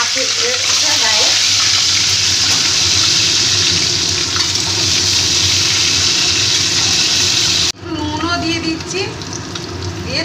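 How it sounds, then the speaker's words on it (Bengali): Eggs frying in hot oil with turmeric in a pan give a loud, steady, dense sizzle that runs on continuously, then drops briefly and resumes with stirring and scraping sounds mixed in. "ভালো করে ডিমটাকে আমি ভেজে নেব"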